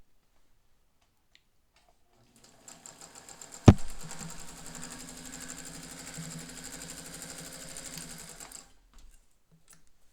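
A vintage Singer 201 sewing machine runs steadily at a raised speed, its fast even stitching clatter starting after a sharp click and continuing alone for about five seconds before stopping.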